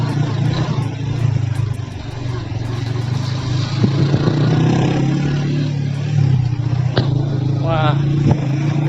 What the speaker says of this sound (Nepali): हाम्रा चाहिँ साथीहरू पढौँ चाहिँ सतर्कताका साथ बाइक चलाइरहनु भएको छ